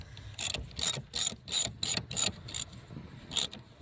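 A hand ratchet works a tight, thread-locked bolt loose on the dash of a Kia Soul, giving about a dozen quick clicking strokes in a steady back-and-forth rhythm, close and loud.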